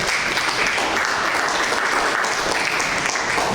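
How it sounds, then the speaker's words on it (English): Audience applause fills the room at an evening museum gathering as a guest speaker is introduced, a steady dense clapping that holds at an even level from start to finish with no talking over it. "give a little round of applause"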